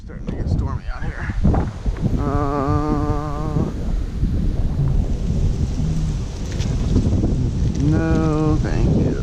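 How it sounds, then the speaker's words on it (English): Stormy outdoor weather with a steady roar of wind and rain across the whole stretch, low rumbles that may be thunder, and a couple of brief tonal, voice-like bursts over the noise. "Man, it's really starting to get stormy out here."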